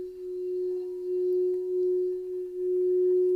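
Crystal singing bowl sounding a steady, sustained pure tone that swells and pulses gently in volume, with no voices, for a calm guided meditation themed around Ireland.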